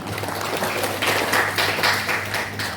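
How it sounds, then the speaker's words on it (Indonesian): An audience applauding during a digital marketing workshop, a steady wash of clapping from a crowd with a faint voice underneath. "Tepuk tangan buat kita semua."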